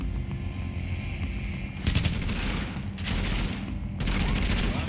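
Gunfire from the video game Tom Clancy's The Division, with several loud bursts of shots over a continuous rumbling background of in-game battle noise.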